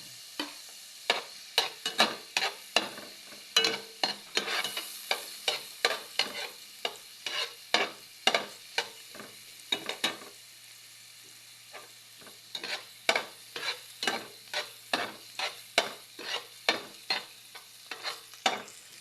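Onion and garlic sauté in a pan, a soft frying sizzle under a steady series of sharp stirring scrapes and taps from a utensil, close by, with a short lull midway and no voices.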